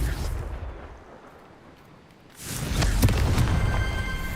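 Fiery spell explosion in the Hogwarts Legacy video game, a loud broadband blast erupting near the midpoint and sustaining as a roaring burst after a quieter lull, with no talk over it.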